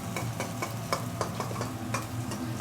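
Food fries and sizzles in hot smoking oil on an Indian restaurant stove, a steady crackle broken by regular clicks and scrapes of stirring.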